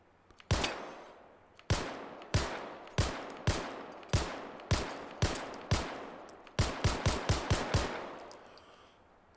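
Gunfire in the VR shooter game Hot Dogs Horseshoes & Hand Grenades: sharp single shots spaced about a second apart, then a quicker burst of five, loud and close with short echoing tails.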